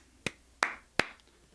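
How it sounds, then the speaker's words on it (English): Small, sparse applause at home over a basketball play-in game: three sharp, separate hand claps, evenly spaced and fairly close, with a quiet background. No talk. "It's just a small applause."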